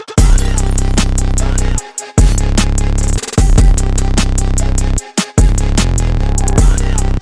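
A loud electronic beat intro with heavy sustained bass, sharp vocal stab hits and brief dropouts of near silence before the full drop slams back in, with no talking over it.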